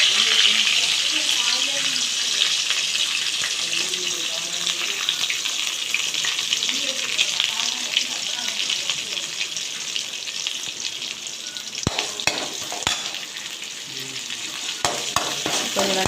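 Cumin seeds and small shallots fry over a low flame on a stove, a dense continuous sizzle with occasional scraping stirs and light clicks near the end.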